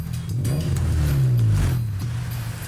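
A modified car engine revs once during a roadside police check, the note swelling quickly and falling away, loud and close with road noise around it.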